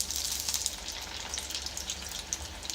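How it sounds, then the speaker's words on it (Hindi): Chicken frying golden brown in a pan over a low flame, giving a steady, close sizzle with bright crackling spatters that run evenly throughout, with no talk. "आप इसे थोड़ी और देर तक फ्राई कीजिए"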